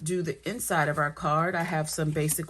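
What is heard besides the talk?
None of the usual background noises is heard.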